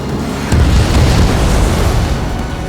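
An enemy bomber blows apart after being shot down in Ace Combat 7, a deep, rumbling in-game explosion that swells suddenly and rolls on steadily under engine noise, with no voices.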